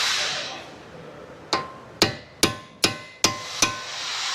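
A hammer strikes an old chisel ground to a blunt edge while staking forest axles: six sharp metallic blows at a steady pace, each ringing briefly, close and loud after a faint hiss.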